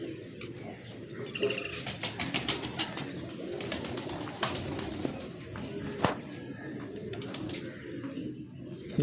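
Breeder's pigeons coo softly in a loft, with repeated low cooing calls and scattered wing flutters and chirps at moderate distance, faint talk underneath.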